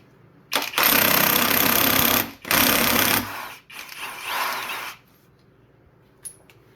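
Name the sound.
impact wrench removing 21mm crank pulley bolt, Ford 2.0 engine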